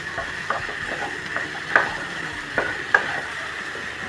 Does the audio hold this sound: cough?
no